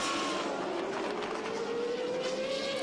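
Formula 1 cars from the 1995 season roar past at a race start, a dense, continuous high-pitched engine wail with rising pitch, heard at a distance under crowd and track ambience.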